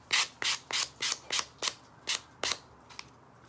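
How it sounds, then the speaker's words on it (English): Rhythmic sanding strokes on the edges of a wooden Christmas tree craft, about nine rasping passes in a steady back-and-forth pattern, close and fairly loud, with no talking. "I'm going to sand the edges"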